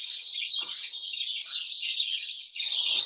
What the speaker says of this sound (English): Well, these are birds.